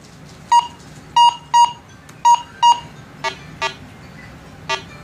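A Go Find 60 metal detector beeps over a coin in an air test, with eight short tonal beeps, the first five loud and evenly spaced, the last three softer and lower, alone with no talk.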